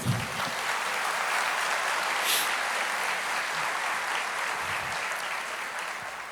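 Church congregation applauding during a Portuguese-language worship sermon, a steady wash of many hands clapping at moderate distance, sustained and even throughout.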